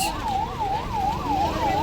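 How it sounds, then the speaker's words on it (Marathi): A highway police ambulance siren wails close and loud in a steady rising-and-falling warble, about five cycles, over the rumble of road traffic. "महामार्ग पोलीस ॲम्ब्युलन्स या ठिकाणी रुग्णांना घेऊन जात आहे"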